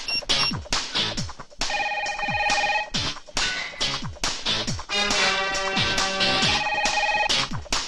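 A telephone rings in a Telugu political action film scene, its repeated bright electronic ring tones coming in clear bursts with short pauses between them and no voices.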